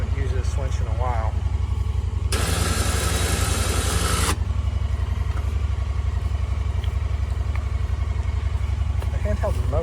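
Winch motor on a 1969 Ford 4000 tractor whining loudly for about two seconds over the steady low idle of the tractor engine, with someone talking nearby.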